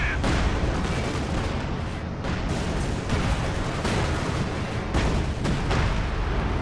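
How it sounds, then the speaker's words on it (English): Artillery fire fills a battle in the video game Company of Heroes 2, a loud, dense rumble of booming blasts and crackling gunfire that runs without a break, with heavier thumps recurring every second or so. "I'm using artillery fire to try to take out this gun."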